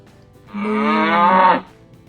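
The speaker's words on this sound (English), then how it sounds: "Make the acquaintance of a cow." A single cow lets out one loud, close moo lasting about a second, rising out of quiet and cutting off cleanly.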